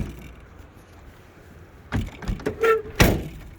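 The rusted door of a 1953 Packard Clipper parts car swings and closes with a series of creaks, scrapes and dull clunks, ending in one sharper slam, heard close after a quiet pause.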